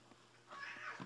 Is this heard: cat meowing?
yes